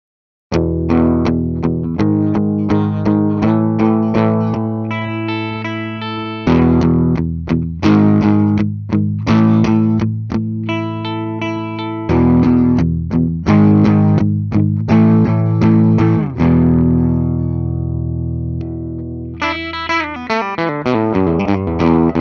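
A 2007 Gibson Les Paul Classic electric guitar, heavily distorted, playing chugging chords and riffs, loud and continuous with brief gaps between phrases, no voices.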